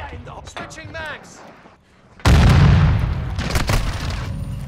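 A grenade blast in a shooter video game erupts midway as a loud, close boom with a long rumbling tail, following a stretch of quieter game sounds and a shouted voice.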